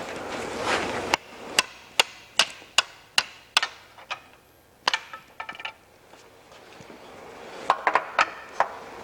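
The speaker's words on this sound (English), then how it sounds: "I'm just going to try and shock this with the hammer." Sharp metallic hammer blows ring out on a stuck drive shaft of a Ford Mondeo, a rapid series of about a dozen strikes, then a pause and a few more.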